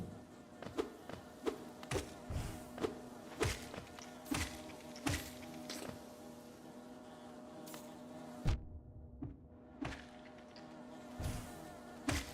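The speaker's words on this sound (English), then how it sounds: "Oh gosh, the bee noises." Buzzing insect-like bee enemies from the video game Hollow Knight drone in repeated bursts over rhythmic thuds, with a brief near-silent gap partway through before the buzzing returns.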